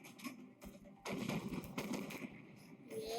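Secondary guns on a warship fire in the Battle of Warships naval video game, a quick series of sharp bangs and booms over roughly three seconds, fairly loud with dense crackling blasts.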